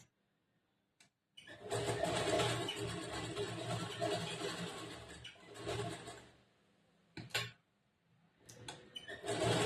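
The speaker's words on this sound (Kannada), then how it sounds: "ಈ ರೌಂಡ್ ಶೇಪ್ ಶೇಪ್ ಯಾವ ತರ ಇದೆ ಅದೇ ತರನೇ ಸ್ಟಿಚ್ ಮಾಡ್ತಾ ಇದ್ದೀನಿ" Sewing machine stitching the round neck shape of a blouse, running in bursts of fast whirring needle hum with pauses between runs, close and clear without speech.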